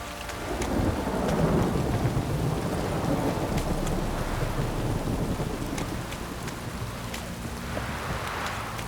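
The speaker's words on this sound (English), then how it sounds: "This downpour's a bastard" Steady heavy rain pours with a continuous hiss in The Witcher 3, while low rumbles of thunder roll underneath, loud and close throughout.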